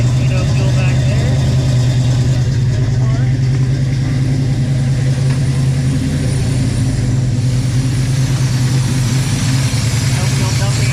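A 1967 Chevrolet Nova engine idles steadily at close range, with a continuous low, even rumble. A person talks over it at times.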